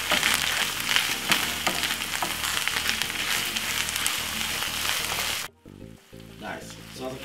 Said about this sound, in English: Give it a stir for about 4 minutes.